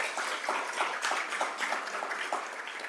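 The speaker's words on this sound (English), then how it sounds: "Let's give another round of applause to our native chef" Steady applause from an audience at a tribal public health luncheon in Kansas, honoring the native chef who cooked the meal; a dense, continuous patter of many hands that holds at an even level throughout, with no speech over it.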